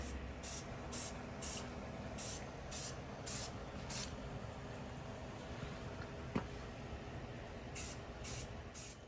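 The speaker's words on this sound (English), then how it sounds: "I'm just gonna spray clear coat on top" Clear coat paint sprays onto a Toyota SW20 MR2 car body panel as a soft, steady hiss that runs throughout, with faint periodic clicks over it.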